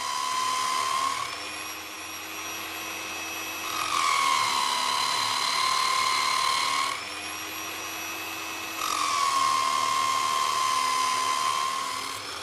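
Stage 2 sharpening on a Nirey KE 280 knife sharpener: a high, steady motor whine under slight load, swelling and shifting pitch in two distinct passes as the blade is drawn across the abrasive.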